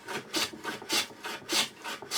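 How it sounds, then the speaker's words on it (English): A hand plane is pushed along a wooden board, taking shavings in quick, repeated rasping strokes, about four passes in two seconds, close and fairly loud with no talking. "So now that we've planed this side here"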